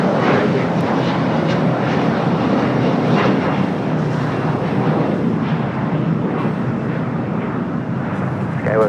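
Airliner roaring down the south side runway on takeoff at a large airport, a broad steady jet rumble holding loud throughout with faint radio chatter in the background.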